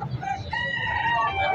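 Koel bantam rooster crowing at a busy bird market, one drawn-out crow rising over a steady murmur of crowd noise and nearby fowl.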